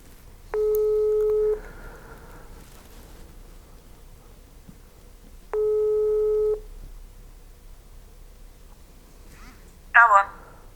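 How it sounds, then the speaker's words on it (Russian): A telephone ringback tone sounds on an outgoing call, two steady one-second beeps several seconds apart over faint room hiss, then a short burst of a voice at the end. "Для этого я сейчас позвоню Татьяне."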